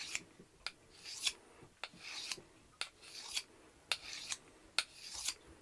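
A kitchen knife drawn across a coarse sharpening stone in regular strokes, about a dozen crisp, gritty scrapes in a steady rhythm, close but fairly quiet, with no talking.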